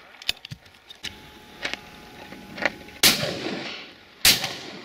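Shotgun fire at pheasant during a driven game shoot: faint distant pops and clicks at first, then two loud, close shotgun blasts about a second apart, each trailing off with a ringing decay.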